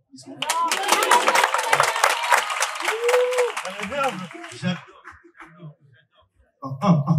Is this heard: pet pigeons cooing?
no